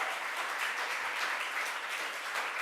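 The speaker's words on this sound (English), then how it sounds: "Let's give her another round of applause." A crowd at a government announcement event applauds with steady, dense clapping throughout, fairly faint and even with no voices over it.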